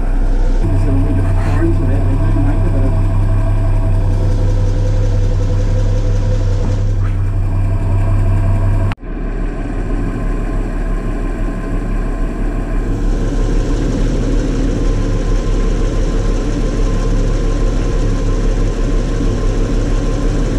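A Holden HZ ute engine idles with a steady low rumble, close and loud, with a brief cut partway through, while people talk over it.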